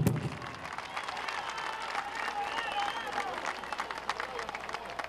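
Warm applause from a ceremony audience marking the 475th anniversary of Moquegua's Spanish founding, steady dense clapping throughout with a brief burst at the start and a faint voice over the crowd.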